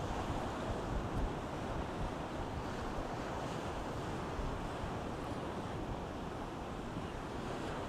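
Sea surf rolling and breaking against big rocks on an east coast beach at Easington, a steady loud roar of waves with wind buffeting the microphone throughout, no voices.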